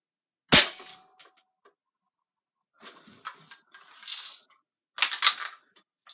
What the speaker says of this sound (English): going to take about 3 shots at that top little dot like I showed with the BBs